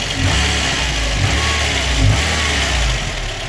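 The engine of a VAZ 21099 runs after its valve clearances were adjusted, a steady mid-pitched idle with a slight rise in revs, close and loud with no talking.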